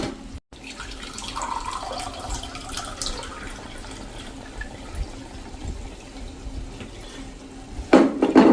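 Water poured from a cup into a pot of spiced mung beans, a steady splashing trickle that runs for several seconds, then a brief louder burst near the end.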